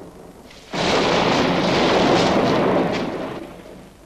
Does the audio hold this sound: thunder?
yes